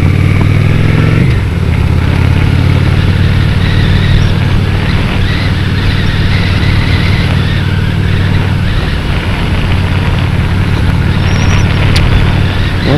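A Honda Shadow RS motorcycle rides at highway speed, giving a loud, steady engine drone mixed with heavy wind roar that holds without a break.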